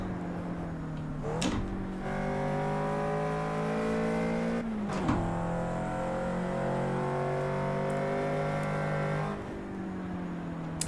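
Toyota GT86 racing in Project Cars 2, its engine droning steadily at high revs, with two sharp gear-shift dips and one tire-squeal burst, close and continuous.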